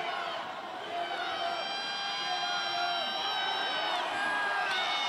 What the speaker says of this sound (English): The crowd is chanting fight.